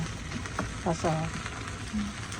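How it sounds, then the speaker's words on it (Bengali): Meat sautés in a pan for a village-style gosht curry, giving a continuous close sizzle with faint voices drifting through the background. "মাংসটা আগে কষিয়ে নিচ্ছে"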